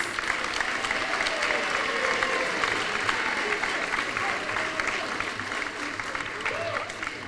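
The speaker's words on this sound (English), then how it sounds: "let's give a round of applause to all of our new members" Middle school honor society induction audience applauding new members, steady close clapping from a crowd throughout, with a murmur of voices underneath.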